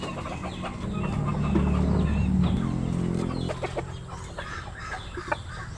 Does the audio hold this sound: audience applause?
no